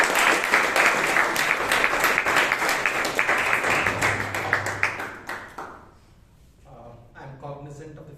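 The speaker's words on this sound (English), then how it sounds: "Round of applause, please." An audience at a Toastmasters meeting in Bangalore claps steadily for several seconds, the applause fading out, then a voice begins speaking.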